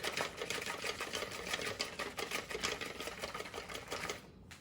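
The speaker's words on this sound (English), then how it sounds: "we're going to go ahead and just whisk." Wire whisk beats eggs by hand in a bowl, a fast steady clatter of rapid close strokes that continues without pause until it stops abruptly near the end, with no talking.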